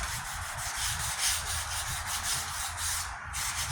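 Body filler being sanded on a 1998 Ford Ranger tailgate during rust repair, a steady, close, rhythmic scratchy rubbing in repeated strokes with no talk.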